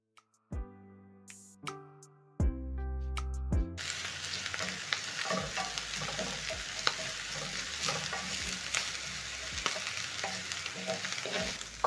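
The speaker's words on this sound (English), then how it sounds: "Cook the onions and garlic for around 30 seconds" Onion and garlic frying in cooking oil: a few musical notes, then a steady, close sizzle with soft stirring scrapes running to the end.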